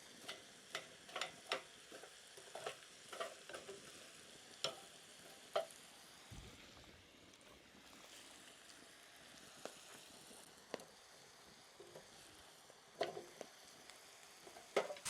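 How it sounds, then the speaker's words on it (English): Meat browning in a cast iron pot over an open wood fire with coals gives a faint, steady sizzle broken by scattered sharp pops and crackles, with no voices. "So that meat has burned off that liquid and it's browning up nicely."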